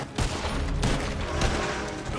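Rapid volleys of gunfire in the video game Red Dead Redemption 2, dense overlapping shots from several shooters in a town, loud and close, with sharp individual cracks standing out.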